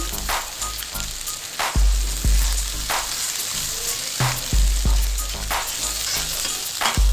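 Green chilies lightly frying in a karahi pan while beef karahi is being made, giving a steady close sizzle with a few louder stirring clatters and no talk.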